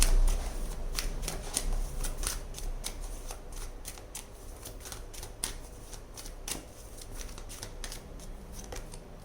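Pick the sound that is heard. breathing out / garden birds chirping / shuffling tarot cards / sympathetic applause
shuffling tarot cards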